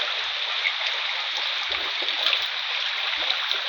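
Floodwater pours steadily into a rural house, reaching the kitchen and the cowshed, a continuous close rushing stream with no one talking.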